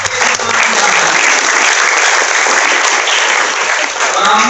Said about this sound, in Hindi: और आपने ताली पहले बजा दी